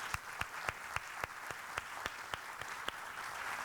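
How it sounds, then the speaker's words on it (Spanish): Audience applause at a Latin American photography forum, a steady wash of clapping from a seated crowd with a few sharper, louder claps standing out at a regular pace, moderately distant and continuous throughout. "Uma salva de palmas para a Ítala."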